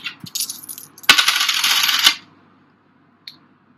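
Coins dropping onto a surface during a probability lesson: a loud clatter and jingle lasting about a second, followed by a faint single clink.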